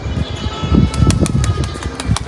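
A pigeon lands with a close burst of flapping wings, quick rustling flutters over a couple of seconds, fairly loud. No one speaks.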